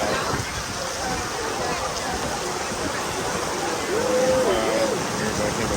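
Heavy monsoon rain pours during a flash flood at a yacht club in Thailand. It makes a dense, steady roar of falling water that fills the scene, with a faint voice briefly audible underneath.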